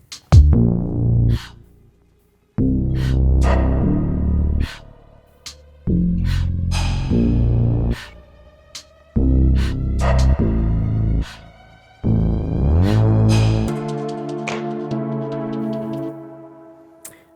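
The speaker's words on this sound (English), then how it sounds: "I actually added some longer, more reverberated breaths down here as well." Several layered percussive breath sounds with long reverberant tails, hitting in rhythmic bursts and swelling into a sustained, tonal wash near the end.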